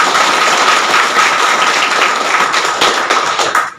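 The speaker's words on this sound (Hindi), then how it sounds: "एक बार चाहेंगे उस जोश को दिखाने के लिए सारे लोग शानदार ताली बजाएं" Sustained applause from a seminar audience fills the room, dense and steady throughout, with no speech over it, tapering slightly at the very end.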